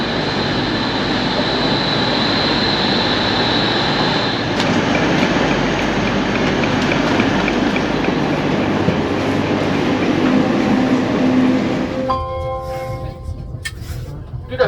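Steady, loud interior rumble of a Eurostar train to Paris, a constant drone with a faint whine that fades partway through, and a shift in tone near the end.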